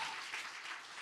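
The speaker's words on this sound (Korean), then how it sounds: "우리 박수 한번 쳐줍시다." A church congregation at a Friday Holy Spirit service gives a brief, soft burst of steady applause, a hissing wash of many hands clapping together at an even level.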